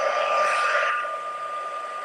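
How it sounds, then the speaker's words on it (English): A handheld heat tool for partial dry embossing blows steadily and close by, a loud broadband whoosh that eases slightly after the first second and keeps running alone. "let's come in with our embossing, our heat tool."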